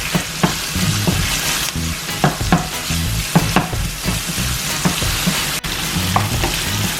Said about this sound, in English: So I'm just going to get this sauteed up. Get all that seasoning in there.